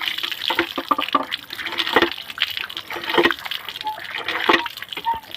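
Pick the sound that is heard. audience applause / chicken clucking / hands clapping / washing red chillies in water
washing red chillies in water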